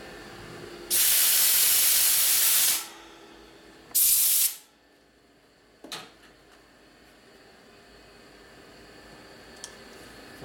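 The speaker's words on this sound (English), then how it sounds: "Just blow out the grit." Compressed air blasts grit out of a part from a 1967 Harley-Davidson 74ci Shovelhead FLH transmission, a loud steady hiss of about two seconds, then a shorter second burst, followed by a faint click and quiet shop background.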